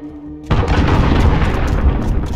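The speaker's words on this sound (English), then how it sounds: "Allied cruise missile away." A cruise missile strike in Call of Duty: Warzone lands as a sudden loud boom, then a dense, sustained rumbling roar of blasts with no talk over it.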